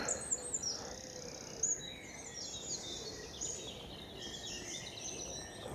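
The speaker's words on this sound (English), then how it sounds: "I can hear blackbirds, robins, there's a wren over there" Blackbirds, robins and a wren sing and chirp at a distance, overlapping whistled phrases over a quiet outdoor background with no talking.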